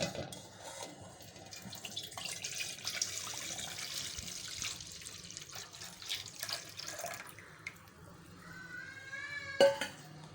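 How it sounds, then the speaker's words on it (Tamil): Strained jaggery water is poured back into a kadai, a continuous splashing pour with faint clinks of metal utensils in a home kitchen, ending with a sharp clink. "இப்போ பார்த்தீங்கன்னா வடிகட்டின வெல்லம் தண்ணியை திருப்பி கடாயில் ஊற்றிக்கலாம்."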